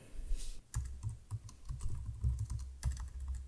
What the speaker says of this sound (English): And I start typing over here.